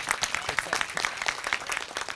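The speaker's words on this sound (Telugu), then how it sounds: "క్లాప్స్ కొట్టండి కదా ఒకసారి కిషోర్ అన్నకి" Audience applause at a film premiere screening attended by software employees, given for actor Vennela Kishore; a steady burst of clapping from a crowd filling the whole moment.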